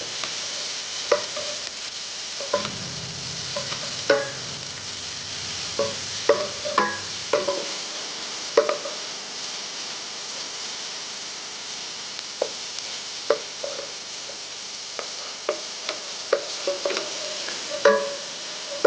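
Onions, peppers and coarsely chopped garlic fry in a pan for an octopus and green bean dish. A steady hiss runs under scattered clicks and scrapes from stirring.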